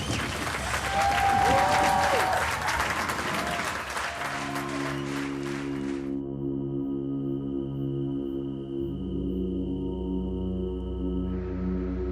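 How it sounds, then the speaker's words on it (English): Steady applause from an audience fills the first half, then gives way to sustained electronic tones and a low hum that continue to the end. "keep applauding"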